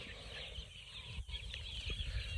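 Chicks cluck and cheep on a farm, a busy, fairly faint mix of overlapping calls with steady background noise.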